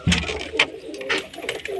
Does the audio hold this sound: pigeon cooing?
yes